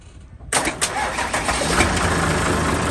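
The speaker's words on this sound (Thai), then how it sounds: "มันจะติดไหมเครื่อง EH 700 ด้วยนะฮะตัวเนี้ย" EH700 diesel engine of a ten-wheel truck cranking and catching, then settling into a loud, rough, steady idle close by.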